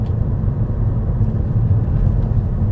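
A 2005 Mercedes S430 4Matic rolls along with a loud, steady low road and engine rumble, and no distinct gear change stands out in the brief stretch.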